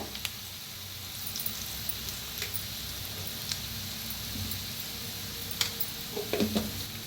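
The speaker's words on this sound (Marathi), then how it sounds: "आता ह्याच्यात मिक्स करूया बटाटो" A spoon stirs potato into a mixed-dal dosa batter in a bowl, giving soft wet scraping with occasional light clinks, quiet and close, rising to a few sharper knocks near the end.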